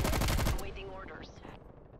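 Rapid automatic bursts from a Stoner 63 light machine gun in Call of Duty: Cold War hammer loudly for about half a second, then cut off, leaving game sound effects and fading echoes.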